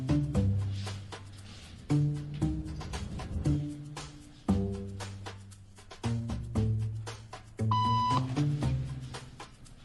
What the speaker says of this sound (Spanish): Un pitido significa que hay que levantarse